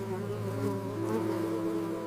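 Bees buzz in a steady, continuous drone, loud and close with no voices, a dense hum that barely wavers.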